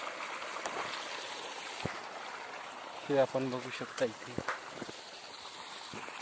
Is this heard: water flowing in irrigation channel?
yes